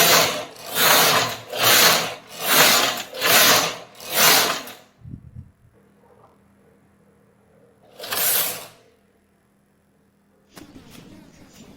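Knitting machine carriage sliding across rows of a vest panel, five rhythmic loud mechanical swooshes in steady succession, then quiet handling clicks and one more pass later, no talk.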